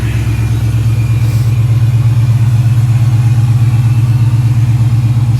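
A 2003 Ford Mustang SVT Cobra idles steadily while warming up, a loud, close, rumbling V8 burble with a smooth even pulse and no talking.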